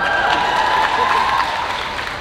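Audience applause and light cheering during a fan Q&A event with an actor, a brief steady wash of clapping with a faint tonal hum beneath.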